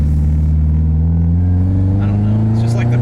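A turbocharged right-hand-drive JDM hatchback at quarter throttle accelerates into boost, its steady close engine drone climbing gradually in pitch without a break.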